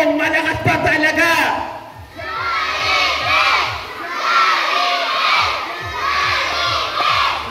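Loud crowd of children shouting and cheering in repeated surging waves, after a short burst of music, at an outdoor charity gift-giving event awaiting a Jollibee mascot appearance.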